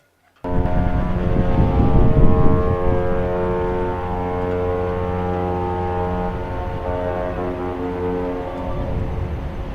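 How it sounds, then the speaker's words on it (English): The P&O cruise ship Ventura sounds its deep horn while departing the Port of Southampton, one loud, steady blast that holds for about nine seconds after a brief silence. "Ventura doesn't disappoint. She's a good little honker, she is."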